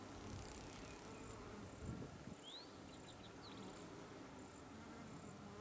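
Honey bees buzz steadily in an open hive across the whole stretch at low level, a soft continuous hum with a few faint higher chirps scattered above it.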